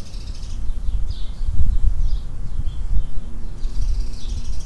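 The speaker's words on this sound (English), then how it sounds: "You also get bird sounds, which is nice." Birds chirp outdoors in short, faint high calls scattered over a steady low rumble, with a few brief bursts of twittering near the start and end.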